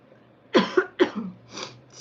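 A person coughs in a quick burst of three or four harsh, close coughs, followed by a softer trailing breath, in a quiet indoor setting.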